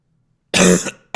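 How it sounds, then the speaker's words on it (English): One loud, harsh cough erupts close up after silence, followed by the start of another. "Why am I coughing so much?"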